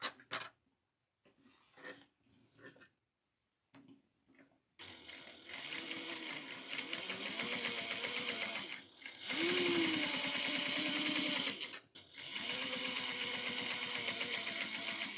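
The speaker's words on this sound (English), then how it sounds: "we're going to top stitch only on the lining, not on the interior." A sewing machine top stitches the lining of a recessed zipper pouch at one eighth of an inch, running in a loud, steady close-up whir after a few short start-and-stop bursts.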